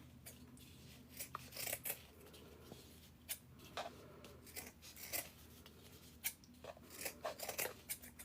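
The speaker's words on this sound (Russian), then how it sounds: "И я снова беру вот так вот ножницы горизонтально." Scissors snip through paper in a quiet room, a series of crisp, close cuts coming in uneven clusters, some quick and some spaced apart, with no voices.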